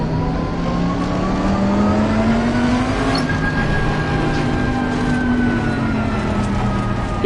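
A Bentley Continental GT3 race car in Assetto Corsa Competizione drives at Brands Hatch, its engine droning steadily with a slowly rising and falling pitch as it accelerates, loud and close throughout.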